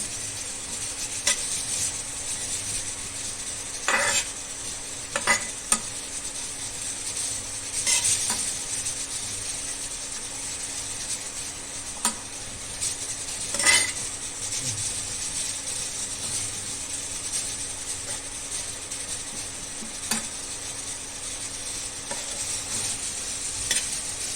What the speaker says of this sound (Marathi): आता हे आपण खोबरं भाजून घेऊया